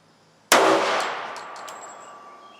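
A single sharp shot from a .45 ACP pistol firing a 185 grain XTP load at around 750 to 800 feet per second, loud and close, followed by a ringing decay with faint clinks.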